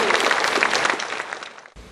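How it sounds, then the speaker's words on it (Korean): A standing church congregation at a Sunday worship service applauds in welcome, a steady wash of clapping that tapers off and then cuts out abruptly near the end. "일어나시면 우리 뜨겁게 한번 환영의 축복의 박수 한번 해주시기 바랍니다."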